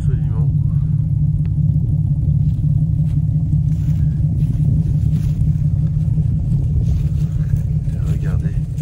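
A Jaguar XK 140 drophead coupé idles through its stainless steel exhaust, a loud, steady, deep rumble that holds evenly throughout, with a voice talking over it.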